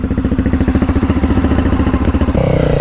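Engine of a Honda CRF250F dirt bike running on a trail, a steady throbbing, pulsing drone close to the microphone that shifts pitch near the end as the rider changes throttle, with no talking.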